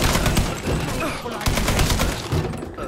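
Machine gun fire in Mafia III rattles continuously, a dense, loud stream of rapid shots with no pauses and no talking over it.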